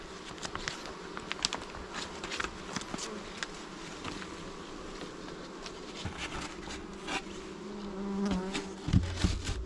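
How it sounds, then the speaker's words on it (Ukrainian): A newly caught swarm of honey bees hums in a dense, continuous drone, with scattered light tapping and handling noises and a louder knock near the end, and no voices. "Оце вже рій. Це вже цікаво."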